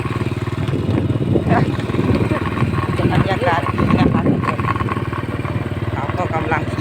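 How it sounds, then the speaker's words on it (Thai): A motorcycle engine putters and grows louder as it approaches along a rural path, low and rumbling, heard under a voice talking close by. "รถเข้ามา"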